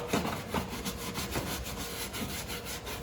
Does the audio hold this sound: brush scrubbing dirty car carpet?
yes